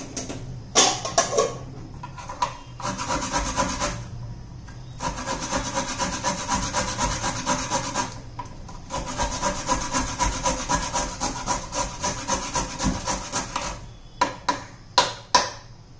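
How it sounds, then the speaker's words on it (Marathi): Carrots rubbed against a hand grater for a vegetable paratha, making steady rhythmic scraping strokes in several long runs with brief pauses, close and fairly loud, with no talking. "हे बघा, मी गाजर किसून घेते"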